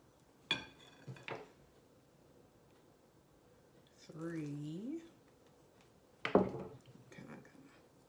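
Fork mixing flour dough in a bowl, a few short scraping clinks of metal on the bowl separated by quiet pauses, close by, with a brief voice in the middle.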